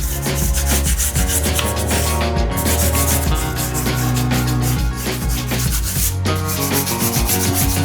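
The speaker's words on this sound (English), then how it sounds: "lightly sand down with fine grade sandpaper in between coats, just for that super smooth finish" Fine grade sandpaper rubs between paint coats on a surface in a Scottish cottage, a loud continuous rasping scrub with rapid back-and-forth strokes filling the whole span.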